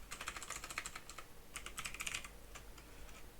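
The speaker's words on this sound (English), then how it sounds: "I'm going to type in watching." Quick, light clicking of keys on a computer keyboard, typed in two short bursts with a brief pause, close and fairly quiet.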